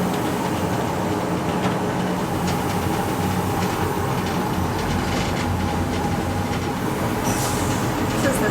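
Passenger train rolling along the Belgrade to Bar railway through hills, valleys and tunnels: a steady, loud rumble of wheels and carriage noise fills the whole stretch, with faint rail squeals and occasional clicks.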